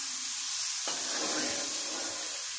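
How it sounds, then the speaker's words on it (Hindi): Sliced potato chips drop into very hot oil and burst into a loud, steady sizzle with dense crackling that continues evenly throughout. "इतना ज़्यादा ऑयल इसका गर्म है कि ये फटाफट बन भी रहे हैं और एक दूसरे में चिपक नहीं रहे।"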